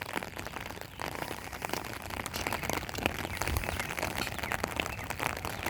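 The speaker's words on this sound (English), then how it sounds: "Well, the birds don't seem to mind it raining too much." Light rain patters on surfaces in a home garden while someone walks outdoors, soft scattered drops and faint ticks at low level, no talking.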